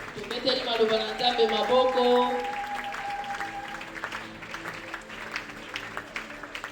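A church congregation at a Sunday Christmas Eve service applauds loudly and steadily, with voices ringing over the clapping at first, then settling into a lighter, even patter.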